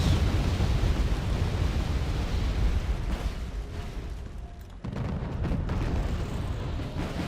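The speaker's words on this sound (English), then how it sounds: "Rocket artillery once again, firing on the tanks." Continuous dense rumble of rocket artillery barrages in the Wargame Airland Battle strategy game, a steady roar of launches and impacts with a brief lull partway through, no speech.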